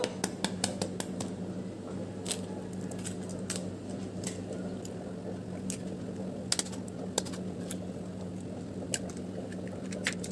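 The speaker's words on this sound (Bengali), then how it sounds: "দুটো কাটা চামচ নিয়েছি খুব ভালো করে ফাটাতে হবে" Two eggs beaten with two forks, giving rapid light metallic ticks and clicks against a bowl in an irregular, continuous patter, fairly faint and close.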